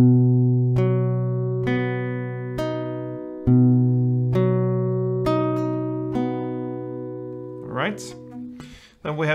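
Acoustic guitar picking eight single notes from the B part of a song, each plucked note ringing out clearly one after another, followed by a brief string slide and handling noise at the end.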